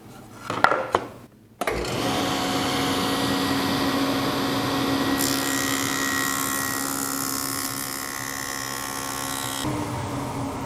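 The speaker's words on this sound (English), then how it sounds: "The next cut we'll make is a cross grain cut in cabinet grade" A SawStop table saw fitted with a SawStop dado blade spins up and cross-cuts cabinet-grade plywood, a loud, close, steady whine with a harsher cutting roar partway through, then the blade runs on freely.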